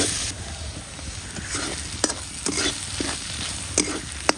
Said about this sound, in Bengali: এবার আমি হচ্ছে যে কাটা বাঁচানো মাছগুলো এর মধ্যে দিয়ে দেবো ভালোভাবে নেড়ে নেব